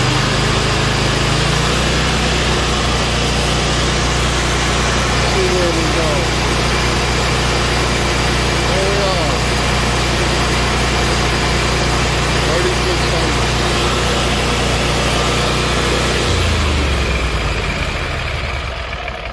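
A small engine idles steadily after a carburetor RPM adjustment, a constant loud hum that runs unbroken for most of the stretch before easing off near the end.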